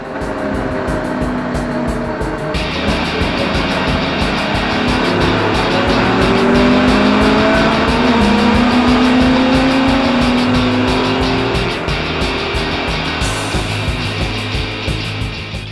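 Jaguar race car engine at full racing speed, a loud sustained roar with rising pitch that shifts through a gear change, close and continuous with no talk.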